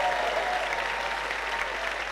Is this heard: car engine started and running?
no